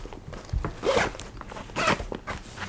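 A zipper on a Rubyx World transmitter bag is pulled closed in two or three quick rasping strokes, close up and moderately loud, with light handling noise between the pulls.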